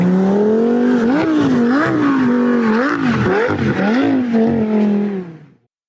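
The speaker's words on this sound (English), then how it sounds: "there's even a video of him doing donuts in this Audi A8 in an Office Depot parking lot" An Audi A8 doing donuts in an Office Depot parking lot, its engine droning loud and close with a steady hum that rises and falls as it circles, then cuts off abruptly near the end.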